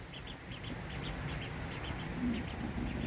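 Runner ducklings chirp in a box inside a boat-building workshop, a steady run of small high peeps repeating over a constant noisy background.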